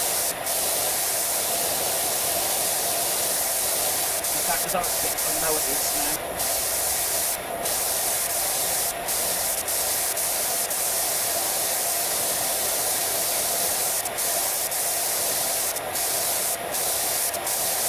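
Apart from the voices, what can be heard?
water gun spraying in PowerWash Simulator 2 video game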